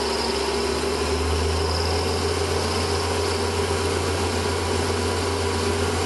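A metal lathe runs steadily while taking a very light 0.1 cut on a drill chuck arbour with a ½ inch 20 thread, giving a constant close motor hum with a faint high whine throughout and no talk.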